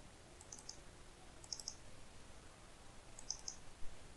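A computer mouse clicks softly a few times while selecting a file to make a bootable pendrive, with short double clicks spaced out over a faint steady background hiss.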